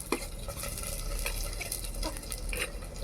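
Tomato pieces added to oil with fried onions sizzle steadily in a pan for a fish curry, with a spoon stirring and scraping close by, no talk.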